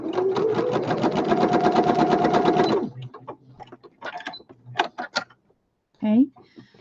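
A sewing machine runs a very small zigzag stitch across fabric for a fabric weight, giving a steady, fast mechanical whir for about three seconds before stopping. Sparse handling clicks follow, and a voice talks briefly near the end.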